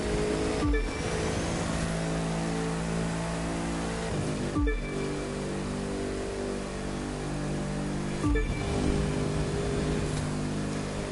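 A car in a drag race in The Crew 2 holds a steady, droning engine tone, broken by three sharp gear-shift cuts spaced a few seconds apart, each followed by the engine pulling again; no talking.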